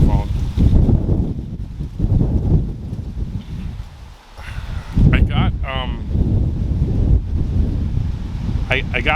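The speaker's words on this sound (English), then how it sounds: "it's a little windy out. I don't know how much you're going to hear that in the microphone." Strong outdoor wind buffets a microphone at a no-prep drag racing event, a steady loud roar throughout, with brief higher squeaks and tones breaking through near the middle and end.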